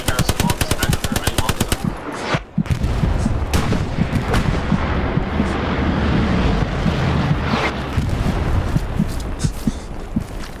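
Sustained automatic weapon fire and heavy artillery blasts from the Squad video game, Kursk map, loud and nearly continuous, with rapid bursts early and booming impacts throughout, voices faintly under the battle.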